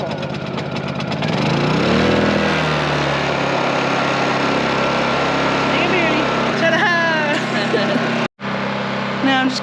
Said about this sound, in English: Now I'm just going to let the generator run for a little while